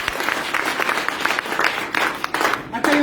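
Audience at a direct selling business seminar applauds in a steady, fairly loud wash of clapping that fills the whole stretch without pause.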